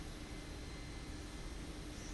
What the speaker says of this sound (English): The helicopter is in relatively okay trim, so it's mostly flying by itself.